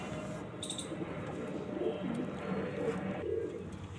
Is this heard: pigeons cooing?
yes